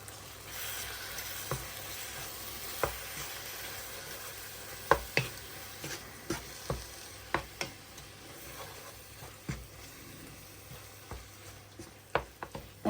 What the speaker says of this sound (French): On fait bien revenir la tomate avec les aubergines, les épices, l'ail, le persil et la coriandre